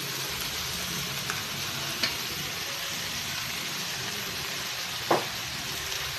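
Mixed vegetables with carrots stir-frying in a hot pan give a steady, close sizzle and hiss throughout, with a couple of brief clicks of stirring.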